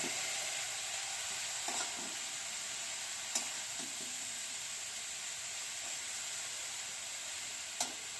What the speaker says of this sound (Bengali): বাঁধাকপি দিলাম, দিয়ে একটু নেড়ে দেবো